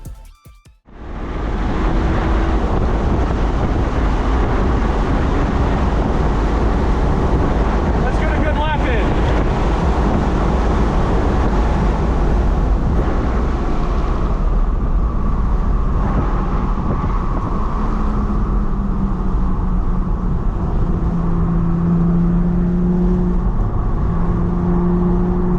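A BMW lapping a race track at speed, the engine droning loud and steady for the whole lap, with pitch rising and falling through gear changes and corners, under heavy wind buffeting on the microphone.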